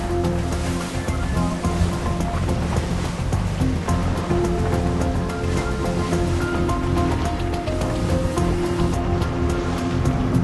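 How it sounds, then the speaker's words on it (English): Loud, continuous rush of water and wind with heavy broadband churn as racing yachts at a regatta pound through short, choppy waves, steady throughout with no voices. "the short chop as the boats pound through it"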